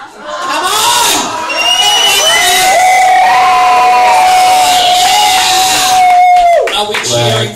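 A comedy show audience cheers and whoops loudly and continuously for several seconds, a dense crowd roar with a sustained high shout riding on top before it fades.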